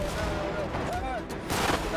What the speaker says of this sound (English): Use revolver attack.